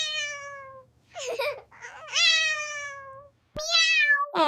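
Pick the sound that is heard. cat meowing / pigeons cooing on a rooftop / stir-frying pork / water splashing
cat meowing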